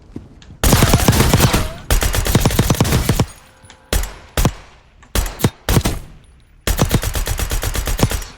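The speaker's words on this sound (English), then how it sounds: "Here's the Siren. Pretty fun little gun." Rapid full-auto bursts from the Siren gun in Call of Duty Warzone, a string of loud, evenly spaced shots in several sustained volleys with short gaps, with no voice over them.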